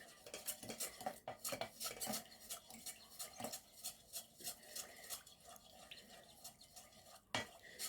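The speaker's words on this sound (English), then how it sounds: "We put our perfume, guys, and then mix it." Perfume being stirred by hand into a homemade Vaseline mixture, quiet repeated scraping and clinking of a utensil against a container in an uneven rhythm, faint and close with no talking.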